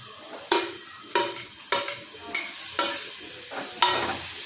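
Chopped tomatoes are stirred into spices and coriander powder frying in a pan for egg curry: about seven rhythmic spatula scrapes land roughly every half second over a soft, constant sizzle, close and clear with no talking.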